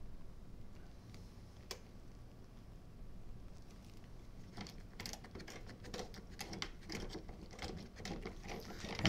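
A riv nut installer tool slowly crushing a riv nut while fitting a spoiler on a Dodge Charger SRT Hellcat, giving faint irregular mechanical ticks and clicks that thicken toward the end.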